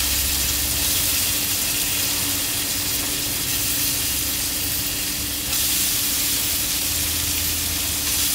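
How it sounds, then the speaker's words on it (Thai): Ginger, coriander root, garlic and onion stir-fry in a little oil, a loud, steady close sizzle with continuous hiss, briefly dipping midway before resuming. "หลังจากนั้นก็นำ พวกขิงแล้วก็รากผักชีกระเทียมหอมใหญ่ลงไปผัด"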